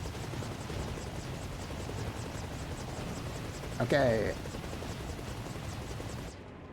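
Video game helicopter with a steady, continuous rotor drone throughout, a short louder burst of sound near the middle, and a brief spoken word.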